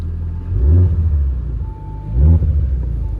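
A 2019 Audi S4 engine revs twice from idle, each blip swelling into a deep throaty rumble before settling back, heard close and loud with no talking.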